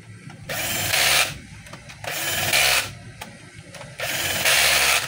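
Screws on a DeWalt D25899 10 kg jack hammer being driven tight with a power driver: three loud, close whirring bursts of about a second each over a low mechanical rumble.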